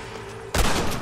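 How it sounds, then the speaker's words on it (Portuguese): A burst of gunfire in the Red Dead Redemption video game, a loud sudden volley after a quieter lead-in, close and sharp, with no talking. "Dois tiros é o suficiente."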